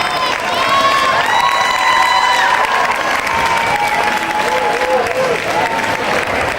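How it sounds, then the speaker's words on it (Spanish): Loud, sustained applause from a crowd at a 1991 school sports awards ceremony, mixed with cheering and shouts, with a voice speaking over it. "Un aplauso."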